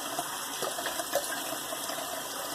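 Cold water runs in a steady, close rinse, a soft continuous gushing hiss with small splashes over a few seconds.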